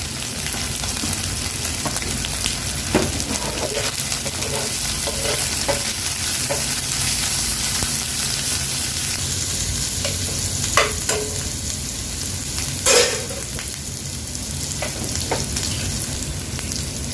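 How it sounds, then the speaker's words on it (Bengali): Chickpeas frying with garlic paste in a pan, a loud steady sizzle with occasional scraping strokes of a stirring spoon, close and continuous. "রসুন বাটা দিয়ে ভালো করে ভেজে নিতে হবে"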